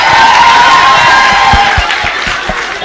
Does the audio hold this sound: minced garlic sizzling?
no